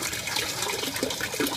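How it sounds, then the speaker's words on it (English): Water from an aquaponics bell siphon drains in a steady, close rush and gurgle, with a few louder sloshing surges near the end and no talking. "This one's actually flowing right now."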